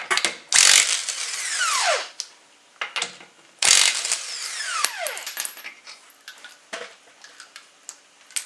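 Power tool with a 21mm socket loosening the lug nuts on a Lexus wheel: loud whirring bursts that spin down, separated by short pauses and sharp clicks, close by and with no voices.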